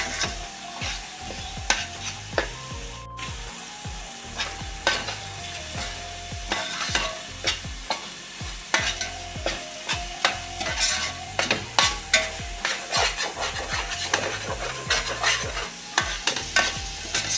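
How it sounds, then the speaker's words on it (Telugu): Andhra-style fish curry masala with green chillies stirred vigorously in a pan, close scraping and clacking strokes over a low sizzle, the rhythm quickening toward the end. "ఒకసారి ఇదంతా బాగా కలుపుతాము"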